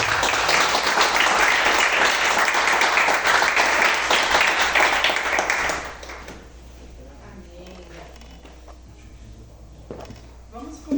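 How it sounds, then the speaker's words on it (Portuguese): A church congregation claps in praise: loud, sustained, dense clapping that stops abruptly about halfway through, leaving quiet room tone with faint murmurs and small knocks. "As palmas louvam ao Senhor."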